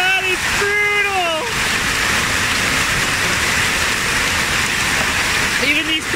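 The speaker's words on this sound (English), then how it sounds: "I've never seen a hailstorm like this!" Dense, roaring hail pounds steadily on surfaces nearby during a heavy hailstorm in Calgary, loud and continuous, with brief excited shouting at the start and end.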